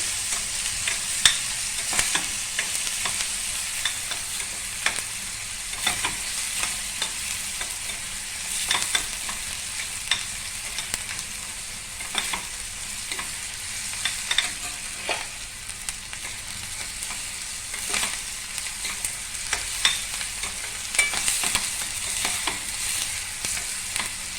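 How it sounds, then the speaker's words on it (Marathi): Onion with turmeric and spices sautéing in a pan, a steady close sizzle and crackle running throughout with stirring scrapes, no voices. "हळद कांदा चांगला परतून घ्यायचा"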